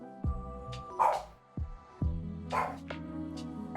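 Mikey the dog barks repeatedly at close range, a string of about five sharp yaps at uneven intervals with short pauses between them, loud and clear over a low steady hum.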